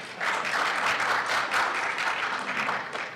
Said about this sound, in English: you can applaud if you want to